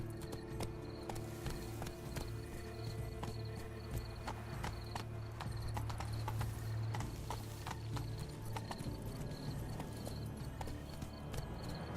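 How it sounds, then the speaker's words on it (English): Unicorn hooves galloping in The Witcher 3 game, a fast, steady clip-clop of hoofbeats on ground, close and continuous, with ambient game sound behind. "I'm gonna ride the unicorn."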